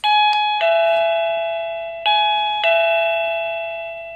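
A 1Byone portable wireless doorbell chime rings loud and clear, two sets of bright electronic ding-dong tones, each left to ring out and decay.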